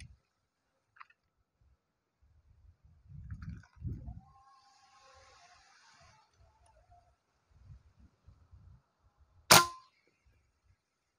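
A single sharp air gun shot fired at 1000 PSI on the fourth pump stroke rings out loud and brief near the end, after quiet handling noises and a faint mechanical whir.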